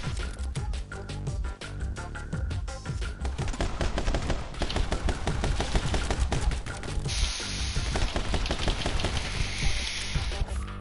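Rapid gunfire from guns in a video game, dense and continuous bursts of automatic fire running throughout with a loud, steady rattle.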